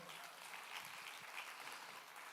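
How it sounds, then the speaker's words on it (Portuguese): A crowd at a church service claps steadily in a dense wash of applause that holds at an even level throughout. "Dá uma salva de palmas ao Senhor."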